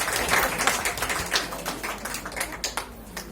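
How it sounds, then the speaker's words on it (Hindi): An audience claps in scattered, uneven bursts of sharp claps that thin out toward the end. "ताली बजाओ भाई"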